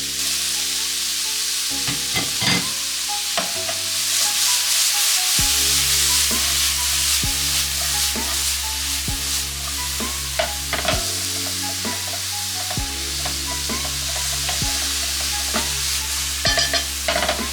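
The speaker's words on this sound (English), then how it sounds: "Now it's time to add all those onions." Onions fry in a pan for a Chaliapin steak, a continuous sizzle broken by frequent spatula scrapes and taps, loud and close, with a low hum running beneath and no one talking.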